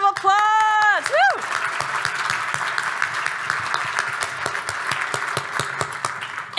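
A breakfast fundraiser audience breaks into a sustained round of applause, dense clapping filling the room after a brief whooping voice at the start, steady and moderately loud throughout.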